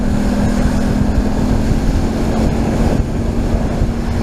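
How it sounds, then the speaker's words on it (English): A motorboat accelerates under forward throttle and lifts onto plane. The engine holds a loud, steady drone with a tonal whine, mixed with water rush and wind buffeting. Nobody speaks. "I'm going to put the throttle forward and watch that wake slowly move towards me in the driving seat as I go faster."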